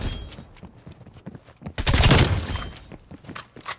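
Groza assault rifle fire in Call of Duty: Cold War, a loud burst of rapid shots midway with scattered quieter shots and game noise before and after.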